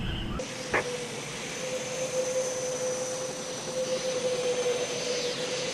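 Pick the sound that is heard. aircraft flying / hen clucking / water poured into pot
aircraft flying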